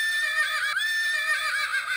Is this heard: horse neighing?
yes